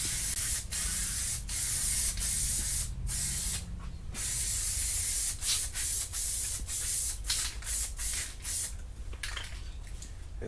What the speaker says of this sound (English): And then I spray the fleece the same way.